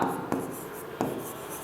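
Handwriting on paper while working a chemistry numerical: a soft, continuous scratching of the pen with two sharper strokes, close and fairly quiet, with no talk over it.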